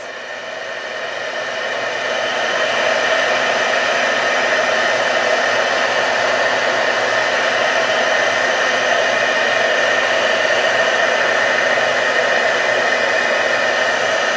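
A heat tool blowing hot air while embossing copper for a patina finish, a loud, steady whirring hiss that ramps up over the first two seconds and then holds constant with no talk.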